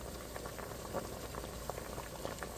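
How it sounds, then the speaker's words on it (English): A pot of water at a rolling boil for a shrimp boil with seasonings and sausage, giving a steady bubbling, crackling patter that stays even throughout with no voices. "So, it's boiling, as you can see."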